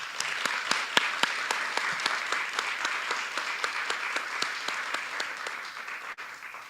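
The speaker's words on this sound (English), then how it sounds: "Let's give another round of applause." Audience applause after a talk on music and trauma, a sustained wash of clapping with distinct individual claps popping through at a fairly steady rhythm, fading slightly near the end.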